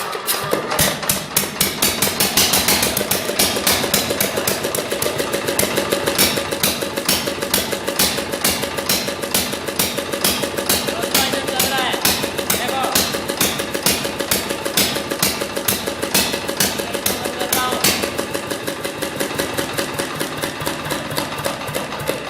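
A freshly rebuilt 5 hp four-stroke single-cylinder diesel engine with radiator running steadily, a loud fast regular knocking thump that continues without pause, close up and alone.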